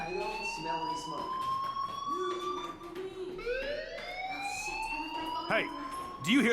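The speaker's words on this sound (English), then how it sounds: "Hey, do you hear that fire alarm?" A school fire alarm rings in the video game Life is Strange, its wailing electronic tones sweeping upward in repeated rising cycles, steady and fairly loud.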